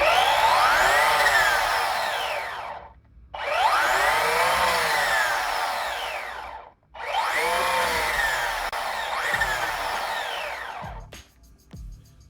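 An electric motor on a faux castle build spins up three times in a row, each run a rising whine that sweeps upward in pitch, holds and then cuts out abruptly, loud and close with no voices.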